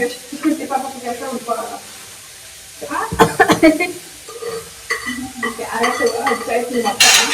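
Tempering spices sizzle and crackle in a pan during festival cooking, with a spoon scraping and stirring up close while people talk over it.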